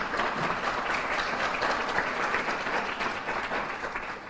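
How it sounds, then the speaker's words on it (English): Sustained applause from a sizable audience fills the whole stretch, steady and even, with no break in the clapping. "give them a round of applause"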